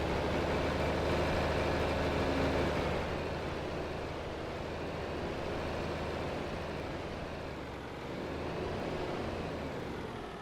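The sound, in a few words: tractor engine in video game Farming Simulator 25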